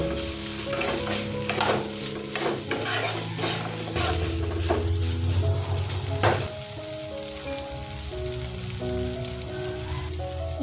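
Paneer bhaji frying in a pan with spices and garam masala while being stirred: a steady sizzle with scraping stirs throughout, under continuous background music.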